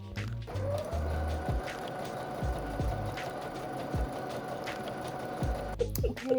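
A home sewing machine runs steadily through fabric, its rapid mechanical stitching hum close and continuous for most of the stretch, with brief stops and restarts near the start and end.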